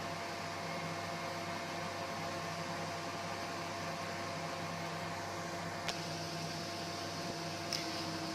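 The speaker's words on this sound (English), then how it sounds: "he brings the Z platform to an initial level from where we'll start printing" An AccuCraft i250d 3D printer moves its Z platform under a constant fan-like hum and whir, fairly quiet and steady, with a couple of faint clicks near the end.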